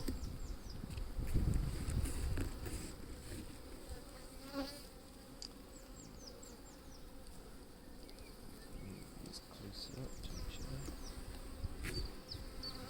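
Honeybees buzz around an open Layens hive, a dense steady drone with louder swells early on and scattered faint chirps in the background.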